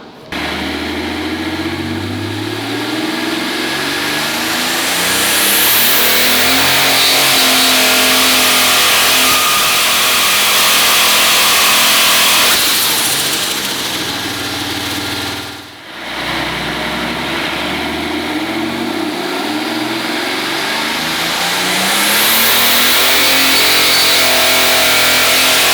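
Billet aluminum Cummins diesel making over 3,000 horsepower revs hard on a dyno, a loud sustained roar that climbs and holds, briefly dips near the middle, then surges again.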